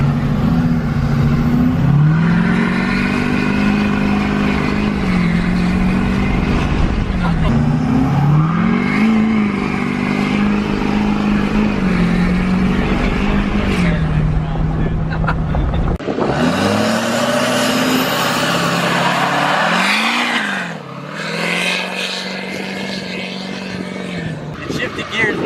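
A straight-piped 2012 Duramax LML diesel truck accelerates hard with its tires spinning, a loud, continuous engine roar that climbs and dips in pitch through a shift, near and steady for most of the stretch.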